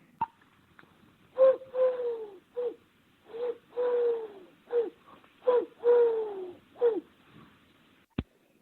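A voice imitates a pigeon with a run of soft, throaty coos that dip in pitch, followed by a single sharp click.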